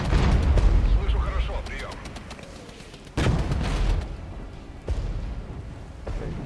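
Heavy artillery barrage in the game Iron Tide: loud rumbling blasts with sharp bursts near 3 and 5 seconds, set under a speaking voice.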